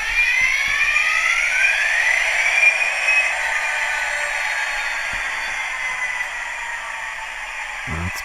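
A loud, continuous electronic hiss and whine with wavering high tones from the sound unit of a Hornby Class 67 model locomotive starting up, steady for several seconds without talk.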